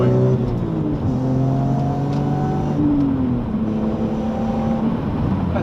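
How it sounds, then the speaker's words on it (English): A BMW E46 M3 drops a gear and accelerates at full throttle with a steady, loud engine note that climbs in pitch as it pulls. "Just drop it down a gear, floor it, and you're up and going."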